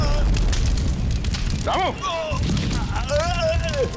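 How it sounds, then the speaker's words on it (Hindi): A loud, rumbling bomb blast with crackling debris fills the scene, followed by someone shouting in alarm over the lingering roar. "धमाके की आवाज।"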